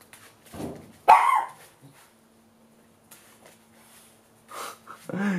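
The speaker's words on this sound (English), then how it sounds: "Such an angry dog" A dog gives a sharp, loud bark and a few gruff, snorting sounds nearby, with scattered quiet moments between the bursts.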